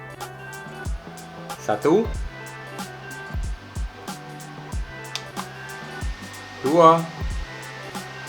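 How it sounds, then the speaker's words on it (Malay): A two-head electric fan for car and desk runs with a steady whirring hum while a person counts aloud over it, with occasional soft clicks. "Dari segi dia punya noise ataupun bunyi kipas ni macam mana pula?"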